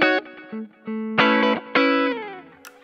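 Guitar through a small amp with slight breakup plays a series of short chords and notes, each attack gritty and ringing briefly before stopping, close and moderately loud.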